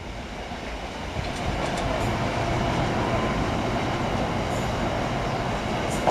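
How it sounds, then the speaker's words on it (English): Freight train of coal hoppers rolls through Northallerton station, a continuous loud rumble and rattle of wagons passing close by that builds after the first second and holds steady to the end. "these are coal hoppers, which is carrying a lot of coal to the power stations."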